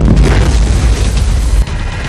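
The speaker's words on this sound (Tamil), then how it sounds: "அப்போது அது திடீரென வெடித்து சிதறியது." Electric scooter battery exploding while being charged at a farm: a loud, deep booming rumble that fills about two seconds, then drops off abruptly near the end, with no speech.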